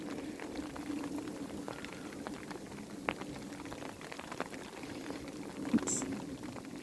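Raindrops pattering onto water outdoors, making a steady, soft, dense fizz with occasional sharper drips and a brief brighter splash near the end, continuous and fairly faint with no talk.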